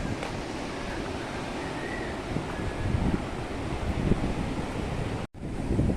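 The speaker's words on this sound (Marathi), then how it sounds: "समुद्र बघा एकदम खवळलेला आहे" Rough sea at a beach in Ratnagiri on the Konkan coast: continuous roaring surf mixed with heavy wind buffeting the microphone, loud and steady throughout, with a brief dropout near the end and no speech.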